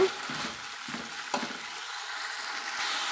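Vegetables sauté in a pan over a moderate flame for a pepper, tomato and tamarind curry, with a soft, continuous sizzle and occasional scraping of a spoon as they are stirred.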